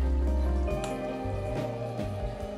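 Water is poured into a pan of mutton and potato curry, a brief splash and gurgling pour followed by soft bubbling and sizzling close up, with no talking.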